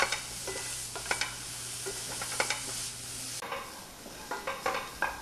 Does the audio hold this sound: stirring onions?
yes